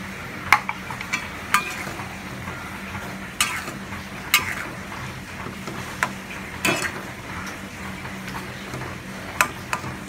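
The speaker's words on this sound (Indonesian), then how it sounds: "Kita aduk-aduk dulu sampai matang" Spicy sweet-sour peda fish stir-fry being stirred in a pan: a steady low sizzle with irregular sharp scrapes and clacks of the spatula against the pan, close up, with no talking.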